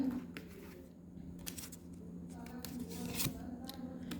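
A tarot card is drawn from the deck during a horoscope reading, heard as soft papery shuffles and brief crisp slides of card stock. A few sharper flicks stand out over a quiet room hum.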